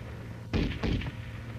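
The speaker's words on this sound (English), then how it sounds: "The gun continues to fire as long as the trigger is depressed" An M73 tank machine gun fires in two short bursts of rapid, muffled reports, each roughly a quarter second long, over a steady low hum, as in an old documentary recording.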